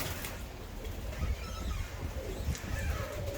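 Çayka long face ornamental pigeons coo softly in a breeder's loft, low repeated calls with a few scattered chirps, fairly quiet and close.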